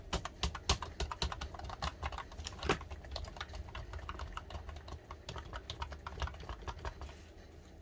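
Keys on a computer keyboard hooked up to a Poco X3 phone are pressed in quick, irregular bursts of close, crisp clicks, with a few louder taps standing out.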